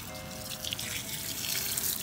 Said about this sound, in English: Mama, how do you turn the water on?